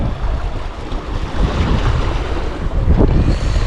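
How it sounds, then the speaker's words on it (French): Ocean waves breaking on a surf-fishing beach, a steady loud wash of surf mixed with heavy wind buffeting the microphone, swelling slightly near the end. "Au bord de l'eau."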